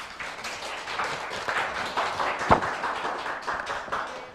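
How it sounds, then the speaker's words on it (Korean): Audience applause at a council assembly held during a nurses' delegate general meeting and Nightingale policy forum: steady, dense clapping from a crowd filling the whole stretch, fairly even in level, with one sharper clap standing out midway. "다시 한번 큰 박수 부탁드립니다"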